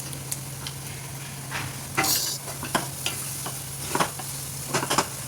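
Semolina sheera for prasad being stirred in a pan with cardamom powder and dry fruits, a low continuous sizzle under intermittent scraping strokes and clinks of the spoon.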